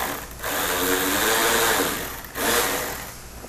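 A power tool backs out a 10 mm bolt under the corner of a Toyota 4Runner headlight, whirring in two close bursts separated by a brief pause.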